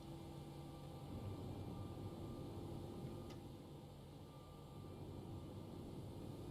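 A JetBlue airliner in the X-Plane 11 flight simulator idles on runway 19 left at Las Vegas, a faint, steady engine drone and hum with no talking.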